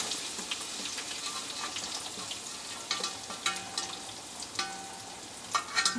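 Garlic and ginger fry in a pan with a soft, even sizzle, while a utensil stirring them adds occasional light scrapes and taps.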